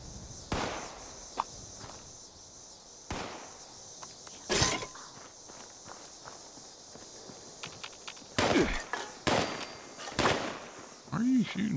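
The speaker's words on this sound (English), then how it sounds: "Why are you shooting me, dude?" Scattered gunshots in Fallout 76, sharp single cracks spaced irregularly, some loud and near, others fainter, with clustered shots toward the end and a brief voice sound at the close.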